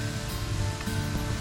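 Garlic, tomato, zucchini and capsicum fry in butter with salt, pepper, coriander and cumin powder at a bush campsite, giving a steady, close, dense sizzle with no talk.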